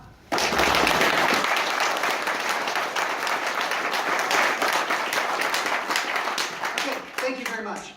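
Audience at a film premiere clapping in sustained, dense applause that starts abruptly and slowly tapers off, loud and close across a crowded room.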